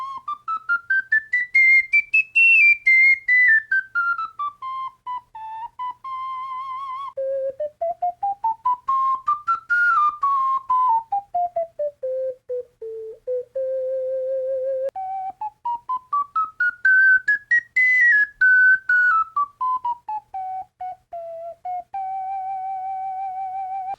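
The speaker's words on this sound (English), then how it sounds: "I really like soprano G ocarinas." A soprano G ocarina plays a slow, clear, pure-toned melody alone, its phrases rising and falling with short held notes and brief breaks between them.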